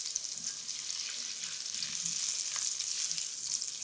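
Chopped ingredients for chicken jalfrezi sizzle in a pan and are stirred, a continuous bright hiss with soft, irregular scraping underneath.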